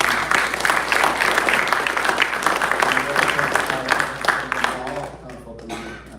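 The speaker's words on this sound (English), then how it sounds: "A round of applause for them," Audience applause at a mayor and city council swearing-in ceremony in Westminster, California, a steady wash of many hands clapping with crowd murmur throughout, easing slightly toward the end.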